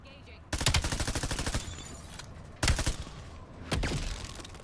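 SMG gunfire in Call of Duty: Black Ops 7 multiplayer rips out in three loud, close, rapid bursts, the first the longest, with short quiet gaps between them.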